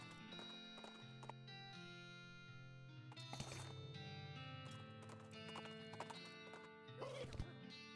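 Horse hooves clop along with a horse neighing over a continuous musical backdrop in the video game West of Loathing, with faint effects layered in.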